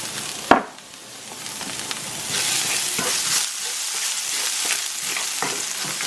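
Garlic fries in a pan with a steady sizzling hiss, opening with a sharp clatter and followed by scattered crackles and light utensil knocks.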